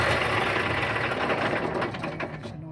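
A Caterpillar 140H motor grader's diesel engine runs steadily at close range, a dense continuous rumble and clatter that eases slightly toward the end, with no talk over it.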